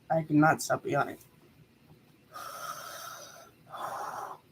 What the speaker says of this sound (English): Then I cannot stop yawning.